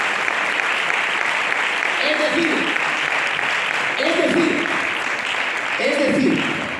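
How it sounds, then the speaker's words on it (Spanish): Church congregation applauding steadily throughout, a dense wash of clapping with a few voices rising briefly underneath, loud and continuous. "Da un aplauso al Señor."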